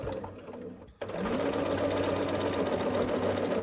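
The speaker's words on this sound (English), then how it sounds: "So we're just going to sew here." A sewing machine runs steadily, stitching a quilt block after a brief pause near the start, its close, even mechanical whir continuing alone.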